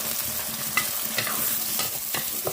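Onion and egg sautéing in a hot pan, a continuous sizzle broken by a few sharp scrapes and clicks of a utensil stirring against the pan, close and alone with no talk.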